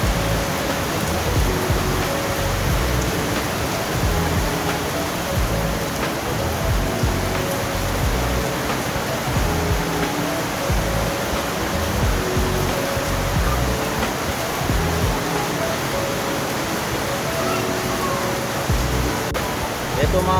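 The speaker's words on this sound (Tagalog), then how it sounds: "malakas ng ulan ngayong Sunday, no?" Heavy rain pours steadily over an outdoor aquarium setup housing fish, a dense, constant broadband hiss and splatter lasting throughout, loud and close with no pauses.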